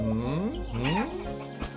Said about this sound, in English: Oh! It's hens!